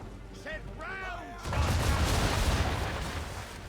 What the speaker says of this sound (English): Hold, then release R2 to fire the cannon.